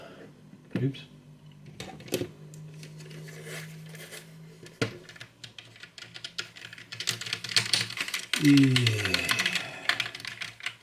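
Typing on an Amiga computer keyboard, an A500 or A600, in scattered bursts of clicky keystrokes with a few louder thumps, mixed with brief speech and some handling noise.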